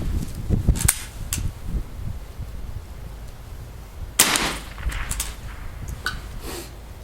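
Two outdoor shots from a .22 rifle firing Aguila 60 grain Sniper Subsonic rounds, each a sharp crack with a short echoing tail, the first near the start and a second about three seconds later, with faint rustling between.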